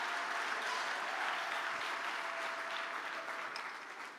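A church congregation applauding and acclaiming the Lord, sustained dense clapping from a large crowd that holds steady throughout and tapers slightly at the end.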